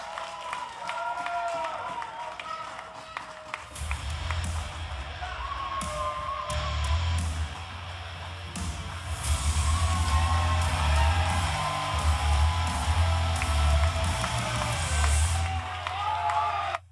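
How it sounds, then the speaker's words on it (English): A wrestling-show crowd at Davis Arena roars throughout with cheering, yelling and clapping, swelling louder partway through, while a voice talks over the din. "How about this crowd here at Davis Arena tonight?"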